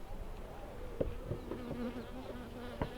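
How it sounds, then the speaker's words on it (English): A steady low buzzing of honey bees hovering near an open hive during an inspection, with a few soft knocks and bumps mixed in. "Hold on, bees."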